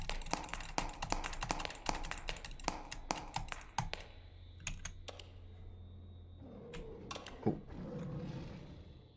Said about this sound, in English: and now start clicking the mouse button.